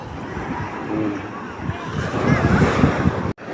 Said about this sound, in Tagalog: Ako ay nandito po ngayon sa tabing dagat sa Pili